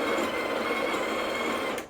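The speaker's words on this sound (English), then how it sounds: "So you want to change the grind size when the grinder is grinding." A Breville Barista Express BES870 espresso machine's built-in grinder grinds coffee beans, a loud, steady whirring buzz close by that cuts off abruptly near the end.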